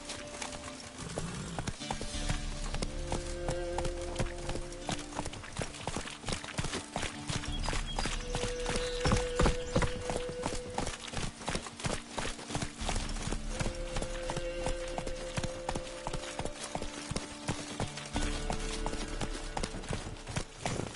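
A horse in The Witcher 3 gallops with a fast, steady clip-clop of hooves, close and prominent throughout and heard alone, with brief tonal game sounds now and then.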